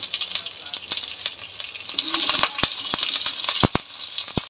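Fennel and mustard seeds fry in a little oil for a chicken roast, crackling and popping in rapid sharp bursts over a steady bright sizzle, close by, no speech.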